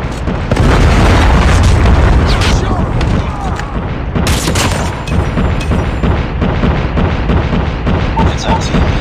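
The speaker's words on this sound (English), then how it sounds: "Hostile predator missile inbound." A predator missile strike in the Call of Duty video game lands as a loud, close boom, followed by dense rumbling explosions and scattered bursts of gunfire, with a second sharp blast a few seconds in, under announcer-style voice callouts.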